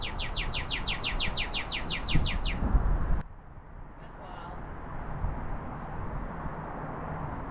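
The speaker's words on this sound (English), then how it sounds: "Hey, pretty bird. Bird's so red it looks orange." A bright red bird, red enough to look orange, gives a rapid series of about a dozen high, rhythmic chirps that stop abruptly around three seconds in. Traffic rumble and low outdoor noise continue underneath.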